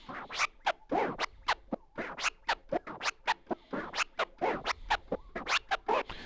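Turntable scratching in a three-click flare pattern, a fast run of sharp, close, evenly spaced scratch strokes chopped into short bursts in an irregular repeating rhythm, played alone without talk.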